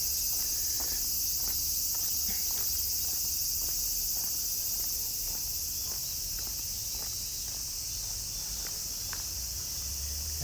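Summer cicadas in Tokyo, Japan, keep up a constant, high, shrill drone, with a faint run of soft rhythmic taps beneath it and no voices.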